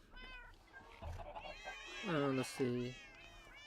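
Cats in Minecraft meow several times, short high mews near the end with a voice talking over them and softer game sounds behind.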